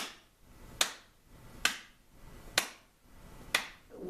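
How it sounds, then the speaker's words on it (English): Four sharp hand claps spaced evenly about a second apart, each crisp and close, ringing briefly against a quiet room before the next. "simulate clapping our hands as fast as we can"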